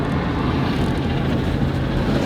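Helicopter engine and rotor noise close by during a rhino dehorning operation in the bush, a loud, dense, continuous roar throughout with no voices.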